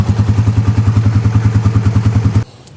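A Suzuki Raider R150 FI motorcycle engine idles while warming up before an oil change, a loud close rhythmic low putter with fast even pulses that cuts off abruptly near the end.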